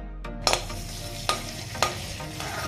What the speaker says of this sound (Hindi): अब इसमें तीन लहसुन की कलियां छोटी छोटी काट के डाल दी हैं और थोड़ा सॉटे करेंगे।